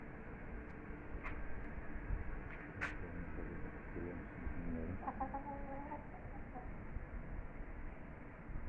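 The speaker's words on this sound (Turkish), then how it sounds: "Tavukları saldık." Several chickens clucking softly in the background, with occasional sharper calls over a steady low outdoor rumble.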